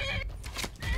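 Horse in the video game Skyrim giving a short, close whinny with a shaky, breathy rise and fall, lasting about a second over low game background sound.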